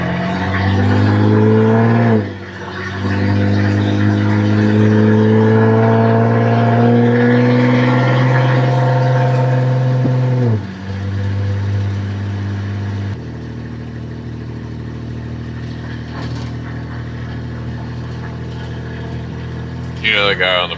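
A 1974 Volvo 164e with a redblock engine and a loud aftermarket exhaust drones close and rowdy, its pitch climbing through acceleration and gear changes, while voices talk over it.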